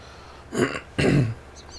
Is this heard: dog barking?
no